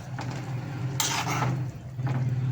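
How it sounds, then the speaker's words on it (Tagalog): Chicken adobo with potatoes is stirred in a pot, with scraping and clinking of a utensil against the metal in short bursts over a steady low simmer. "Haluin na natin."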